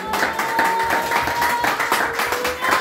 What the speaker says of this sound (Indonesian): Beri tepuk tangan lagi bagi Tuhan.